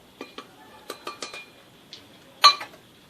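Oil and milk are whisked together in a bowl, producing a series of light metallic clinks and taps of the whisk against the bowl, spaced irregularly, with one sharper clink near the end.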